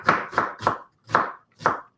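A knife chops onions and garlic on a board in five crisp, close strikes at a slightly uneven rhythm, each a short sharp knock with brief silence between.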